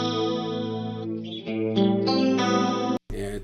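A clean electric guitar runs through a Strymon Mobius chorus placed in front of the amp, giving warbling, wide chords that change every half second or so, then a brief cut before one last strum.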